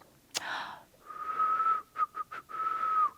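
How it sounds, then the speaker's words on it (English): A sharp breath or click comes first, then a person whistles alone, one long held note followed by several short chirped notes and another sustained tone, close and moderately loud. "you can whistle by yourself. If you're with a friend, you can whistle"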